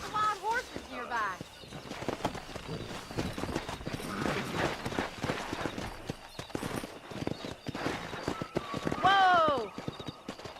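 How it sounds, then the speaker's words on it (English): Herd of wild horses galloping near a ranch in Red Dead Redemption: a steady patter of hooves runs throughout at moderate volume, with sharp neighs and whinnies near the start and again near the end. "That ranch hand said there's a pack of wild horses nearby."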